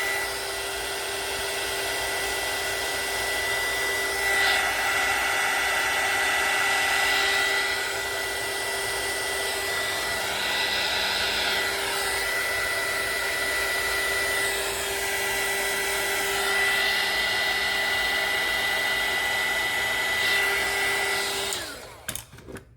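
Hair dryer blowing steadily on a washi tape pendant, a loud continuous whooshing drone with a constant pitch that runs for over twenty seconds before cutting off with a few clicks at the end.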